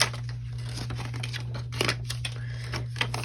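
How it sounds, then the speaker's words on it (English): Scissors snip through paper cut from an old planner, giving close, crisp cuts and rustles over a steady low electrical hum, with no voices. "coming down to the bottom with my scissors. I'm just going to cut off."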